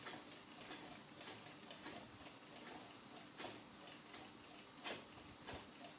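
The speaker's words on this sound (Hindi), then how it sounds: "इस साइड लगाई है सिलाई" A sewing machine stitches along the edge of a boat neck, giving a faint, continuous mechanical whirr with soft rhythmic ticking from the needle.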